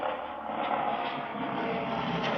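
A steady drone of an aircraft engine, broad and even, holds at a constant level across the whole stretch with no pauses or changes.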